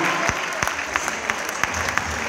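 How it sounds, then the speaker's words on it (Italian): Audience applause for gymnasts lining up at a national gymnastics final, a continuous crowd clapping with distinct sharper claps popping out, fairly close and steady throughout. "Un bel applauso, signore e signori, a tutte le ginnaste che si schierano di fronte a voi."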